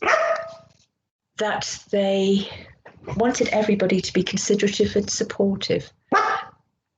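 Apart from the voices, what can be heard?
dog barking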